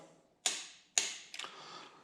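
Torque wrench tightening head bolts on a Farmall Super C tractor engine during a rebuild, two sharp metallic clicks and a fainter rattling third, close up in a quiet shop.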